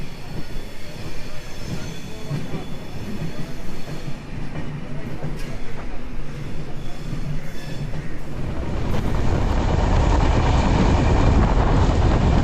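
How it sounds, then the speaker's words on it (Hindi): The Ruposhi Bangla Express pulls out of Anara railway station, a loud rumbling of wheels and carriages that builds and thickens as the train gathers speed, with brief metallic squeals and rhythmic clatter. "अनारा रेलवे स्टेशन से हमारी ट्रेन डिपर्चर हो रही है।"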